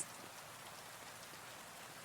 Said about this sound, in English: The rain on the glass